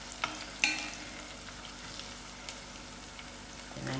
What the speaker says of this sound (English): I'm just waiting for the onions to brown out a little